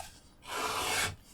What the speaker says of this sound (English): It's used for cutting straps of a set width that you decide by adjusting the position of the ruler.